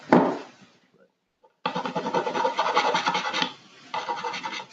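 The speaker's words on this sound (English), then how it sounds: "I'm gonna take this little fret eraser and see if I can just knock down those little things that come out when you drill" Small fret eraser scraping over freshly drilled wood on a guitar body during a build, heard close: one short rasp, a pause, then a longer run of rough back-and-forth scratching.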